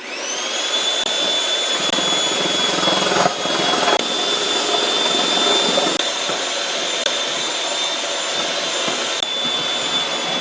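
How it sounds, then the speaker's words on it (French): Egg whites are beaten at high speed with an electric mixer for a tres leches cake, a continuous loud motor whine holding steady for about ten seconds, with a few faint bumps and no talking. "vous allez aussi battre vos blancs d'œufs à haute vitesse"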